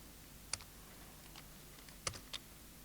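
Faint computer keyboard typing during programming: a few isolated key clicks spaced apart over a quiet background hiss.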